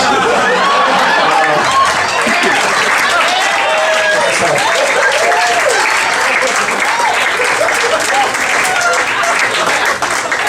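A stand-up comedy club audience applauds continuously and loudly, a dense wash of clapping with crowd chatter and a voice mixed in throughout.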